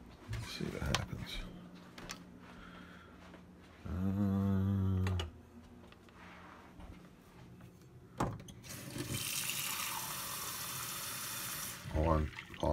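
Water pours from a tap onto a thick, looped Egyptian cotton towel, first as a short steady gush and later as a longer hissing run, with voices speaking between the bursts.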